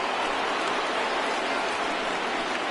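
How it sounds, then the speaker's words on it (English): Steady rain pours down over a ballpark in the MLB The Show 19 baseball video game, a dense, even hiss that holds constant throughout with no voices. "the rain coming down as it is, we are in for a long delay"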